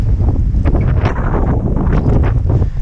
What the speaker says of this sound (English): that was a gust of like 35,